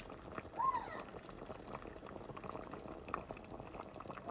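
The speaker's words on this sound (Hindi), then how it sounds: "अब इसको स्लो कुक करते हैं, ढक्कन लगाते हैं।" Clam and raw mango curry with potato and green chilli simmering slowly under a lid, giving a steady soft bubbling that runs throughout at low level, with no voices.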